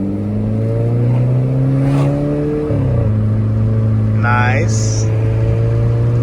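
A Volkswagen car engine drones steadily as it accelerates on the road, with a shift-like drop near the middle, a turbo whistle and chirp toward the end, and a brief voice speaking over the engine.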